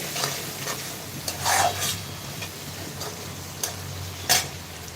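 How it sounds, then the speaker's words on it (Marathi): Coriander leaves sizzle softly in hot oil in a pan while a spoon stirs and scrapes a few times, with light clinks of utensils against the pan. "तेलामध्ये थोडीशी कोथिंबीर टाकून घेणार आहे छान परतून घेणार आहे"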